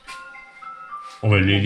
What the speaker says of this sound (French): Coup de téléphone